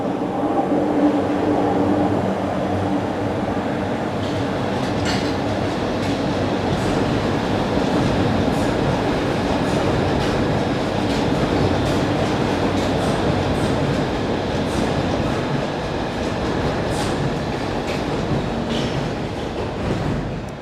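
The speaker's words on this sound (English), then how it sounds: "Oh, and here we go with the train." A London Underground train rumbles loudly into Swiss Cottage station, steady roar with faint rail clatter and occasional high squeals, continuous throughout with no voices.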